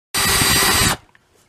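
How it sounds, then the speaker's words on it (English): A power drill bores pilot holes for the small screws of guitar tuners: one steady, close whirring burst of under a second that cuts off abruptly into near silence. "drill pilot holes for these screws, and then use these very small screws here."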